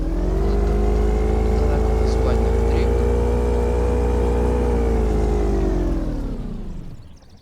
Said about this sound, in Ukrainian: Човника заводимо.